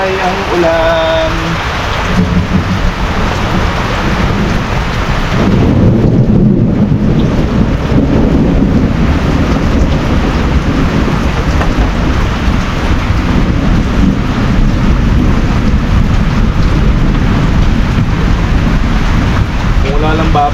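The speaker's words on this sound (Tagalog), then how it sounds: "Wala nang humpay ang ulan." Heavy rain pours down steadily with dense hiss and a roll of thunder, loud and continuous for the whole stretch, with a voice speaking briefly near the start.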